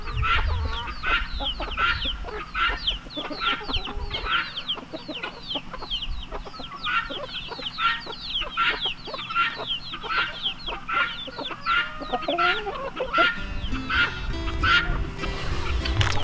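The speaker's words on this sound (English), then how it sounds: "I guess you could say that's one of the joys of free-range chickens." Free-range homestead chickens, including small Cochins, cluck steadily and busily nearby, many overlapping short calls forming a continuous chatter throughout.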